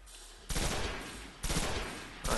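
Rapid gunfire from the video game Destiny as enemies are shot down, three loud bursts of automatic fire in quick succession with no talking.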